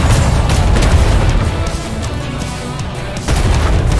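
Ship cannons fire in the Atlas video game, a dense barrage of loud, booming blasts and rumbling explosions that roll continuously, with a brief dip before another heavy burst near the end.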